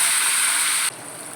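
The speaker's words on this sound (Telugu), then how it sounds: "పోపు వేగింది" Dried red chillies, garlic, urad dal, mustard seeds, cumin, asafoetida and curry leaves sizzling in hot oil for a tomato chutney tempering give a loud, bright hiss that drops suddenly to a quieter sizzle near the end.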